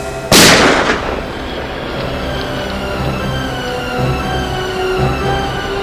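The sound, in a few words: gunshot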